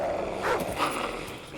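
A short, low dog growl with a snarling edge over steady background noise, sounding synthetic and game-like, from Call of Duty: Ghosts.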